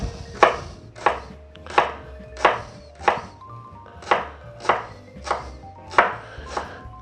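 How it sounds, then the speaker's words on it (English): Knife slicing leeks into quarter-inch rounds on a cutting board, about ten crisp evenly paced cuts, close and clear with no talking. "And just slice them up."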